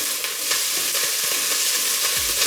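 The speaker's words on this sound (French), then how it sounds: "Vous allez ensuite y verser votre morue émiettée." Crumbled salt cod hits hot olive oil in a pot, producing a loud, steady, close crackling sizzle that fills the whole stretch.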